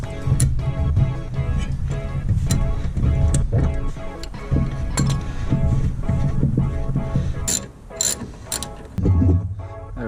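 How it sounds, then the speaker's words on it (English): Brake caliper coming off a GMC K1500 pickup: a busy run of metallic clicks, ticks and ratcheting from tools and parts close at hand, with brief clanks and a short quieter pause near the end. "Off comes our brake caliper."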